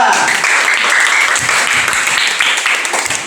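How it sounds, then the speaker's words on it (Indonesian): Students in a classroom applaud a student group after its presentation, a dense, loud burst of many hands clapping that continues steadily for the whole moment. "Oke, tepuk tangan dulu untuk kelompok 2."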